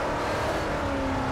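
A car in Forza Horizon 4 pulls hard at full throttle, its engine note droning loud and steady with a rising whine throughout the short burst, no voices over it.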